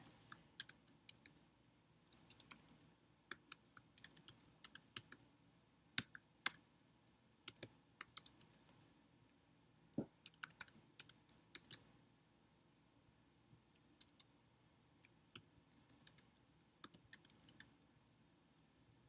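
Slow, uneven pecking on a computer keyboard, with sparse single keystrokes clicking at irregular intervals, quiet and close in an otherwise silent room, no talk.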